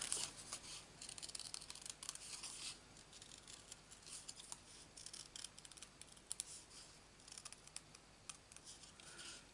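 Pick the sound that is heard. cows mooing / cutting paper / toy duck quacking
cutting paper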